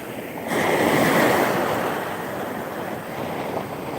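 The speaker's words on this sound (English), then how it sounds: "Here we're watching the tide come in." Ocean waves wash in as the tide rises, a broad, loud roar of surf that swells and then eases into a steady rush, with some wind noise on the microphone.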